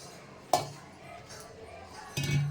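A spoon stirs powdered sugar into semolina in a bowl for steamed pitha, giving a couple of light metallic clinks against the dish with soft scraping between them.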